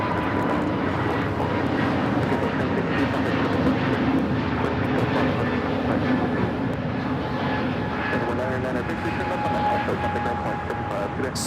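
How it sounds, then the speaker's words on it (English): A Frontier Airbus A320neo roars steadily on its takeoff run at Los Angeles International Airport, a continuous broad engine rumble under ongoing talk. "Scarlet, the Tanager livery taking off to Phoenix, Frontier 1062. It's an A320neo."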